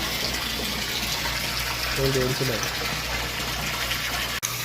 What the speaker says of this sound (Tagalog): So nagdadagdag na tayo ng tubig natin mga idol.